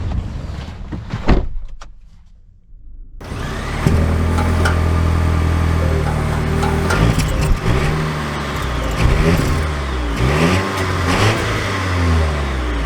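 A 2024 Volvo XC90 B6 setting off: a door thud and interior clicks give way to a steady engine hum with rising and falling revs, heard from inside the cabin without talk.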